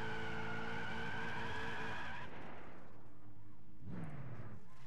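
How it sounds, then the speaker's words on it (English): Video-game car doing a burnout in Gran Turismo 6: a sustained engine drone with tire squeal fades after two seconds, then returns briefly at four seconds with a rising screech, moderately quiet and without talk. "Then rip the e-brake again. And then throw it in first gear and just do the burnout."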